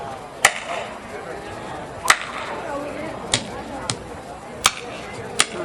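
Sharp, flat slaps of a racehorse riding whip struck flat strike six times at irregular intervals, crisp and close against a quiet background.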